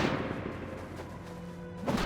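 Pistol gunfire in the survival video game Last Day On Earth, a dense, booming burst of shots that fills the clip with a steady roar and a fresh blast at the end, with no talk.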